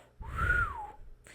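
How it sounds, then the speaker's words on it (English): A single person whistles one rising-then-falling note lasting under a second, close and clear, with a short breathy trail afterward. "that whistle was awful"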